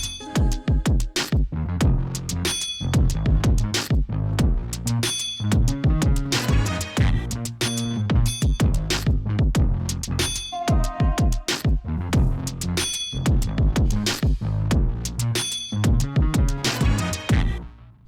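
A produced beat made for a Kenny Beats beat battle runs continuously and loud, with punchy drums, heavy bass and chopped sample fragments repeating in a busy rhythmic loop and no voices.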